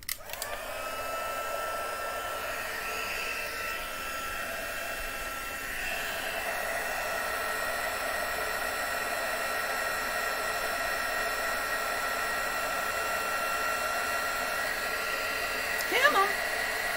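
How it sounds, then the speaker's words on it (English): A handheld heat tool for crafting and card stamping runs on setting 2, giving a steady, close, airy blowing hum with a constant tone that holds unchanged throughout, ending with a small clatter. "now I'm using number 2 on my heat tool"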